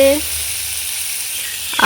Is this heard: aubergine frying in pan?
yes